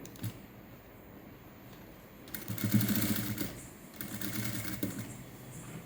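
Sewing machine stitching a patchwork blouse runs in a steady mechanical whir, rising louder for a few seconds mid-clip, then continuing at a moderate level with no talk.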